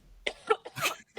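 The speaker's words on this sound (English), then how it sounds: "because I have to cough." A short burst of several quick, close coughs from one person in a quiet room, loud and dry, followed by a brief pause.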